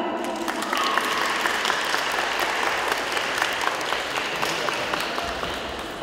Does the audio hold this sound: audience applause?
yes